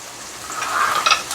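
Onions and green chillies frying in a pan for an Andhra-style gongura curry, giving a soft, steady sizzle with light stirring scrapes that swell slightly toward the end, with no talking.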